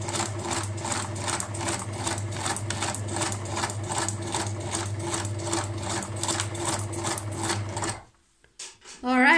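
A sewing machine runs steadily for about eight seconds stitching straight and zigzag stitches, its needle clattering in a fast, even rhythm close up, then stops, leaving brief faint handling noises.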